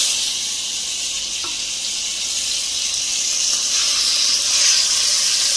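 Chicken wings sizzle and hiss continuously in hot oil as they brown in a pan, a steady bright frying noise with no talking.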